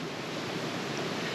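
Steady rushing water from waterfalls in a small valley on the walk up Kinder Scout in the Peak District, a continuous broadband roar heard alone with no talk.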